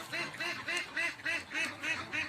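Ducks on a desert farm in Saudi Arabia, large egg-laying birds, quacking in a steady run of about seven nasal calls at an even rhythm, fairly close and clear, with no talk over them.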